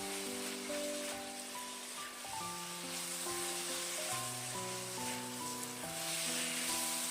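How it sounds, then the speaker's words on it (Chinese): Apple cubes are stir-fried in sweet and sour sauce, giving a steady soft sizzle and hiss throughout, with light scraping stirs underneath, while calm instrumental music plays over it. "快速的给它翻炒均匀，让苹果丁都能均匀的裹上一层糖醋汁"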